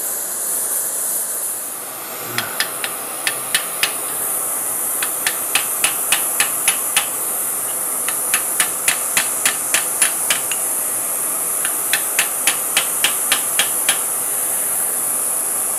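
Steel on steel: the side of a heavy chisel hammered on Damascus steel, sharp metallic taps in quick bursts of five to eight strikes separated by short pauses, clear and close over a steady hiss.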